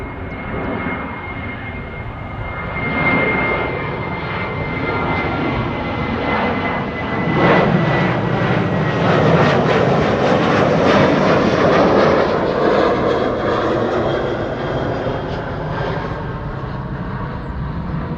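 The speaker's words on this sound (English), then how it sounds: "This is KLM flight 1753 to Hamburg. 737-700." A KLM Boeing 737-700 jet departs Amsterdam Schiphol, its engines roaring loud and steady as the aircraft powers away, swelling midway and holding a sustained rumble with a faint whine.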